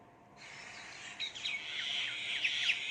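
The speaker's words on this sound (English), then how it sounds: "Correct, sound of birds." Birds chirp and tweet close by, a busy cluster of high, quick calls that starts suddenly and continues steadily, with no voices.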